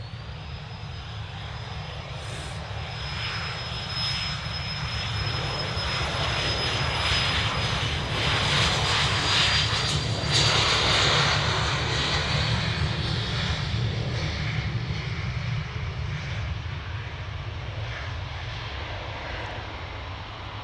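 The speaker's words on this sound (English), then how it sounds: "Off to Glasgow, Cessna 510. This thing is going to just absolutely cane it down the runway." A Cessna 510 private jet roars down the runway on its takeoff roll at Manchester Airport, a loud steady jet rumble with a high turbine whine that holds for the full twenty seconds, swelling slightly midway.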